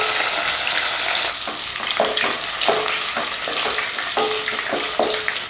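Whole spices such as cinnamon, star anise, cloves, cardamom and bay leaves crackle in hot oil with curry leaves, coriander and mint for a parotta salna, a loud steady sizzle broken by sharp spattering pops, no voices.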